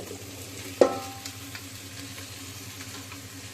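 Okra and browned onion fry in a rice cooker, giving off a soft, steady sizzle. A single clack of a stirring utensil sounds near the start.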